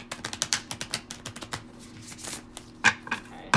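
Tarot cards shuffled by hand in a series of quick, irregular riffling bursts and soft slaps, close and fairly crisp, with a faint steady hum beneath.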